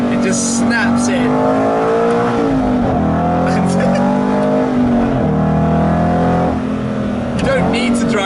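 An Aston Martin GT8 engine revs hard through quick gear shifts, the loud, close pitch climbing and dropping as it snaps between gears. A voice talks over the engine.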